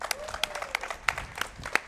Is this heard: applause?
yes